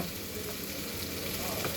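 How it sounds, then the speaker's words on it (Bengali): Soaked, stone-ground mustard paste is stirred and poured into a hot pan for a pui shak patori, giving a steady, close, continuous sizzle throughout with no talking. "এখন আমি এটাকে নেড়ে ঢেলে দেব"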